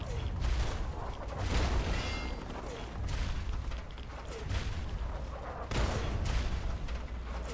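Explosions and gunfire in Fallout 3 combat, several heavy booming blasts rising and fading over a dense rumbling battle din, moderately loud and without talk.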